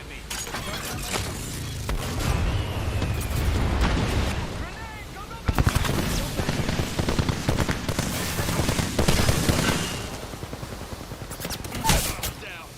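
Video game gunfire as Joker opens up, dense bursts and shots rolling through the clip with loud thumps near the middle, mixed with game noise and what sounds like talk.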